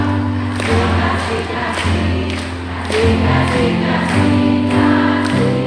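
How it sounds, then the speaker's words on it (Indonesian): A church congregation at a revival service sings together while clapping hands, loud voices over a steady beat of claps. "Sambil tepuk tangan."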